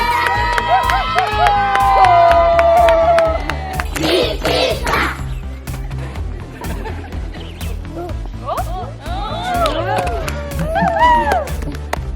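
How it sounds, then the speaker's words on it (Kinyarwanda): A crowd at a children's water-bottle contest cheers and shouts, with high-pitched children's voices, some clapping and whoops, loud and close, punctuated by sharp knocks. "Frank akomerwa amashyi menshi cyane bamuzamurira amashyi"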